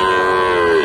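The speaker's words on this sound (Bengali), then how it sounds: "ক্রস ষাঁড় বাচ্চা।" A young crossbred bull calf at a cattle market in Bogura lets out a single loud, close moo that holds steady for just under a second.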